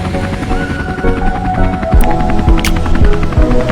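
A helicopter in flight near Abidjan, heading to land at the Sofitel Hôtel Ivoire, gives a loud, steady throbbing rotor and engine drone that stays close and continuous throughout.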